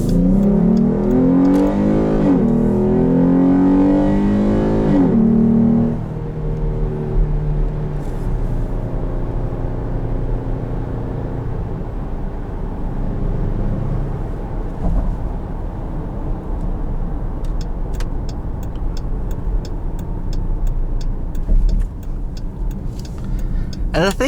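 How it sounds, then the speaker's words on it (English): A 2021 Dodge Durango GT fitted with a K&N intake pulls hard with a loud, rising engine roar and intake honk, then eases into a steady lower cruise drone, with a voice talking over it. "you don't have to be flat out to really get any added intake noise"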